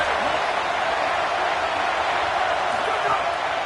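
Stadium crowd at an American football game, Tennessee at South Carolina, a loud continuous roar of cheering that holds steady throughout with no distinct voices standing out.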